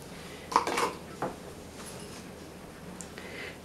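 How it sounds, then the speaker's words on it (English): A utensil clinks and scrapes against a bowl a few times while ingredients for Heath Bar coffee cake are stirred together, a couple of sharp taps early, then faint quiet scraping. "Stir them in together."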